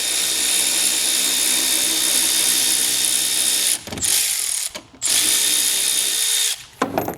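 A powered ratchet loosens a front bumper bolt on a Tesla Model Y Juniper, a loud, close, continuous whirring buzz with a few short pauses and restarts and no talking.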